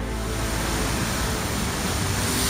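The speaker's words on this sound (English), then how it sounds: "don't ever underestimate the waves" Waves from Lake Superior crash against the shore in a loud, unbroken roar of surf that fills the whole stretch with no voices over it.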